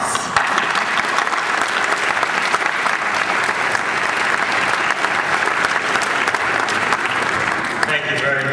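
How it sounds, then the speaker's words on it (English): A large graduation audience claps continuously and loudly in a broad, dense wash, with voices mixed in and a brief shift near the end. "Let's welcome Mr. McCastle with applause."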